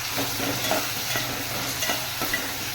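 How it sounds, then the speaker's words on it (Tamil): Tomatoes for horse gram chutney sauté in a pan, a steady close sizzle running unbroken with soft stirring scrapes on top and no voices. "நல்லா தக்காளி வதங்குற அளவுக்கு வதக்கிட்டு"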